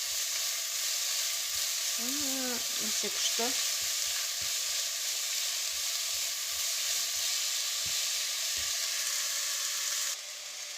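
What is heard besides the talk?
onions frying and being stirred in a pot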